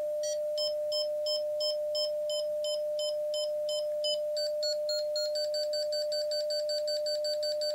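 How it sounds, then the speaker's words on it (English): A SOTABeams Go4Lo antenna tuning aid sounds a steady electronic tone while short beeps pulse over it, starting evenly spaced and speeding up into rapid, closely packed beeps as SWR changes. "as we change the SWR, not only does the beep rate change,"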